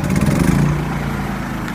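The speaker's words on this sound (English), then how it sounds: "there it is, running on eco mode with no load" A Champion 3100 watt dual fuel generator, electric-started, idles steadily on eco mode with no load, a close, loud, even engine drone with a low rhythmic throb that settles slightly after the first moment.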